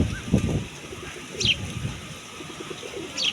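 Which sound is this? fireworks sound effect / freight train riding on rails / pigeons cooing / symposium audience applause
pigeons cooing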